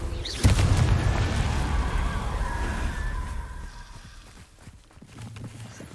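Confringo and Incendio spell blasts in Hogwarts Legacy: one loud boom at the start, then a roaring, crackling burn that slowly fades into quieter rumbling.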